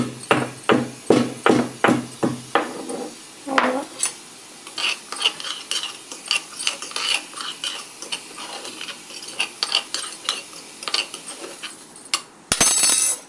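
Whole spices being pounded into powder in a home kitchen by the gas stove, a quick run of about a dozen sharp, loud metallic thuds, then lighter clinks and scraping.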